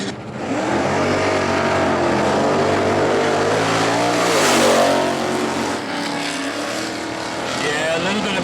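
A drag racing car with a tube chassis and plenty of power launches down the strip at a grassroots meet, its loud, sustained engine roar rising and falling as it pulls away, with crowd noise mixed underneath.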